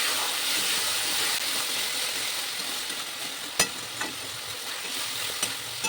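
Spice masala with salt and a splash of water fries and gets stirred in a pan for a Bengali rohu fish curry with potatoes, a dense, steady close sizzle with a few sharp spoon knocks, no voices.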